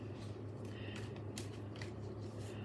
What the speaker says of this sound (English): I'm giving the cards a good shuffle again.